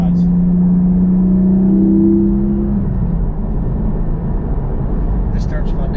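A 2020 Porsche GT4 engine drones steadily from inside the car while driving, a strong low tone holding for a few seconds before easing into a softer hum.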